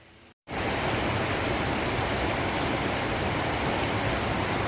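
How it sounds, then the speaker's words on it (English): A rain shower falls steadily during a long drought, a dense continuous hiss of rain that starts abruptly after a brief gap and then holds an even level, with no voices. "3rd rain shower in over 4 months."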